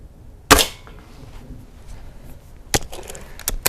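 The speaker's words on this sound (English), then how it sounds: "I'm going to put the first pellet in, and we're going to shoot at the one to the left" A Gamo Fusion 10 air rifle fires a Norma Superpoint Strike pellet with one sharp, loud crack, followed later by a few quick clicks and knocks of handling.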